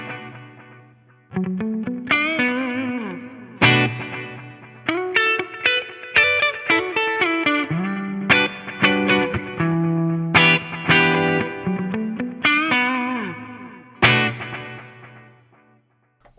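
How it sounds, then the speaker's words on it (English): An electric guitar through an FM3 with parallel delay and reverb plays a run of picked notes and chords, each trailed by echoing delay repeats and a spacious reverb tail. "the delay repeats aren't getting washed out by that reverb"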